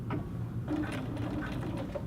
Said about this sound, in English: I am going to back stitch a few stitches